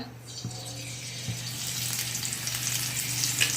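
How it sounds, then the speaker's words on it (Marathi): Curry leaves drop into hot oil in a kadhai and burst into a loud crackling sizzle that builds and stays dense, with a low steady hum in the background. "कढाई ठेवली त्यामध्ये आता तेल टाकलेलं आहे आता हा कढीपत्ता"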